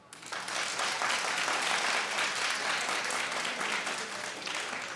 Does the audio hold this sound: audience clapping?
yes